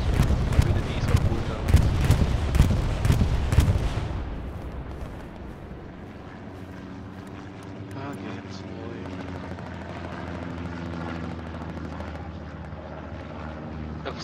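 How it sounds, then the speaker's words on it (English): A recon plane passing over in the Hell Let Loose World War II shooter: loud roaring bursts for the first few seconds, then a lower, steady engine drone that carries on to the end. "Recon plane coming, bombing run coming shortly after."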